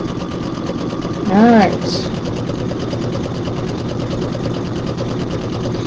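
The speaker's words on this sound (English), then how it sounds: "Now these machines sew really straight, so don't try to help them too much. Just let it sew." A sewing machine top stitches a fabric project bag, running in a steady fast mechanical whir from start to finish, with a brief spoken word partway through.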